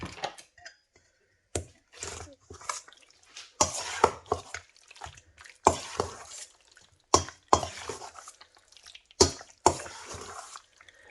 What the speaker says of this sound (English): we're just going to mix that up